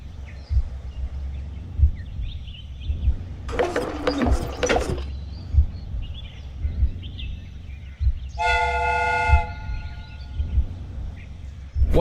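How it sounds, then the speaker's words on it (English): In a video game, a steam train sounds a bright, steady whistle blast over a rumbling rail ride with rhythmic clacks of the wheels, and a harsher mechanical hiss comes earlier. "The steam whistle is ready to be used."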